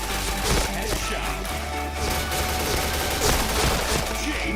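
Video game shooter gunfire, dense rapid bursts of shots and impacts in a continuous loud barrage, with faint voices low in the mix.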